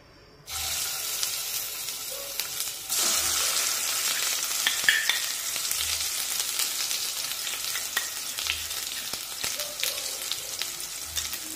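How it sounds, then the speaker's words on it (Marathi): A ground masala paste sizzles and sautés in hot oil with bay leaves for a spicy Maharashtrian patavdi curry, a steady crackling fry with periodic soft scraping and stirring strokes and no speech. "वाटण चांगलं परतून घेऊ"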